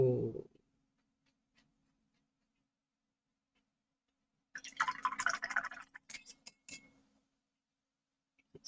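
Water is added to handmade mineral watercolour paint, giving a quiet spell followed by a burst of soft close wet dripping and trickling, then a few scattered drips.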